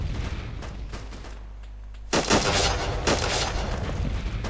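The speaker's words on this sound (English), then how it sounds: "Engaging Zulu 3, firing." Gunfire in a military video game: a low rumbling background, then a sudden loud burst of close shots that continues as crackling fire.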